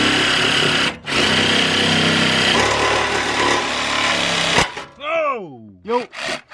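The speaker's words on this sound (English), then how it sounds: "I need to slip the saw right in here in between this flange and that support beam on the frame" A saw cuts through the exhaust pipe under a Corvette's frame, wedged between a flange and a frame support beam. It rasps loudly and steadily for about four and a half seconds, breaks once, then stops, and a person calls out right after.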